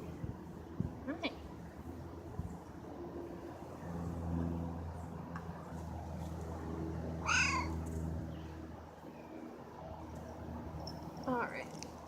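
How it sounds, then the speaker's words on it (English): A cat meows outdoors during a walk, a few short calls spaced apart over steady street hum and passing traffic, with a person talking nearby. "that's why it was meowing at me"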